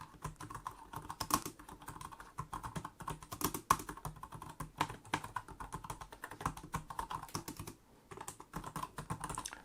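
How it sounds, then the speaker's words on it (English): Rapid, continuous typing on an Arteck HD197 chiclet-style Bluetooth keyboard, close up, with light clacking keystrokes and a short pause near the end. "let's do a very quick type-in test, and you can hear what the keys sound like"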